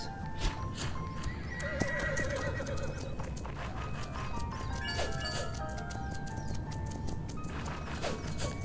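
Horse in a video game whinnying and neighing, with clip-clopping hooves over a busy, steady game soundscape, close and fairly loud throughout.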